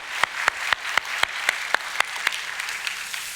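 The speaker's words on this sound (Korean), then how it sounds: "준비한 팀들에게 박수를 한번 감사하겠습니다." A small, sparse round of applause from a church congregation at a Mother's Day Sunday service, with scattered individual claps spaced about every quarter second over a soft background murmur.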